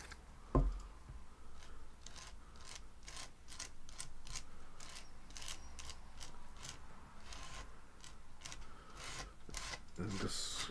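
A tool spreads embossing paste across a handmade Christmas card in short, repeated scraping strokes, soft and close, in an even rhythm.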